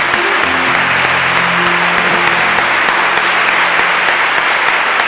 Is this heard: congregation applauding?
yes